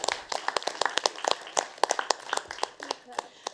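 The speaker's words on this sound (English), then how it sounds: "can we give applause to all the discussants of the conference?" Light, scattered audience applause at an academic economics conference: a modest crowd clapping in uneven, distinct claps for a few seconds, fairly soft and without a continuous roar.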